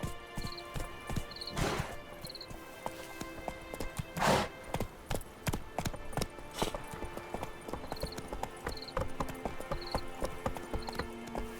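Roach, a horse in The Witcher 3: Wild Hunt, gallops in a steady clip-clop of hooves with occasional louder thuds and a brief snort, set against ambient game sound.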